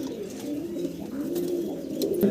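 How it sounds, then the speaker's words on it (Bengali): Caged pigeons on a farm, kept in 24-by-24 cages, coo steadily in a low, continuous rolling murmur close by. "এই চমৎকার কবুতরগুলো সংগ্রহ করে নিতে পারবেন বিভিন্ন ধরনের বিভিন্ন বয়সের কবুতর আছে"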